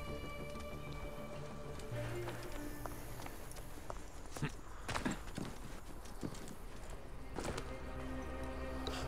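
Horse hooves clip-clop in the video game Assassin's Creed Origins, a steady run of muffled beats under a dense bed of game music and ambient noise, with a few sharper knocks standing out midway.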